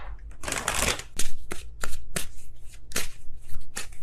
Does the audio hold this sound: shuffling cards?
yes